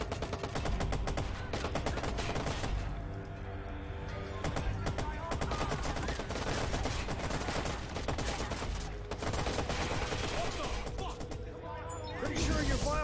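In the Watch Dogs video game, a gun that overheats with sustained use fires long, dense bursts of rapid gunshots, loud and continuous with sharp cracks and crashing impacts, and voices speaking underneath.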